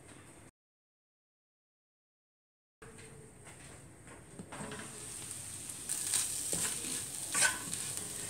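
Egg curry being stirred in a pan over a low flame, with a soft sizzle and scraping strokes that grow busier and louder after a brief silent gap, with no talking.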